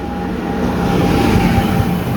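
A train crossing at the outer approach to Mysore Junction gives a steady, loud rumble of rolling wagons with rhythmic wheel clatter and a faint whine throughout, no voices.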